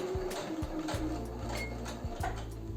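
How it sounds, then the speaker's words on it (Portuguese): A sewing machine runs steadily, stitching a curved seam on denim for homemade mom jeans, with a close rhythmic mechanical clatter and faint ticks of the needle throughout. "O único truque é deixar a máquina ir, guiar então o pé,"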